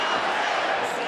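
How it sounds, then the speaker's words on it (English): Boxing arena crowd in Birmingham, Alabama, a dense roar of cheering that stays loud and steady for a brief moment. "This crowd is electric here in Birmingham, Alabama."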